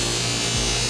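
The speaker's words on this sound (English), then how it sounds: "Then introduce the punch cup to the cotton wheel." A cotton buffing wheel spins with a steady whirring hum, briefly changing tone as a punch cup is pressed against it for polishing, close and without talk.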